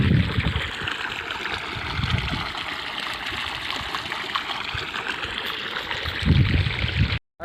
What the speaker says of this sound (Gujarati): પાણી હાલે છે ઘઉંમાં.